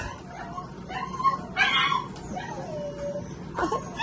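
German shepherd puppies whimper and give a few high yips and short barks nearby in a grooming area, with thin whining cries rising and falling over quiet background noise.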